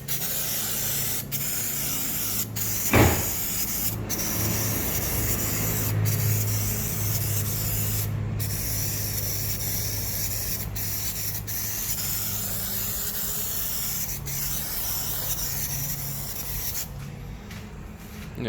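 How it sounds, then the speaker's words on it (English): A steady, close aerosol spray lubricant hissing for most of the clip during a Ford 250 crossflow engine head removal, with one sharp knock near the start and a few faint clicks. "I'm just going to go and grab some spray lube"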